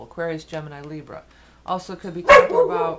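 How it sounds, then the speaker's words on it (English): A dog barks indoors in short loud bursts near the end, overlapping a person talking steadily. "sorry about the dog"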